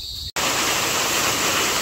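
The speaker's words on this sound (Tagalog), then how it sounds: "Kami po'y inabot na ng malakas na ulan." A dense, steady roar of heavy rain fills the air, loud and close, with only a brief cut near the start.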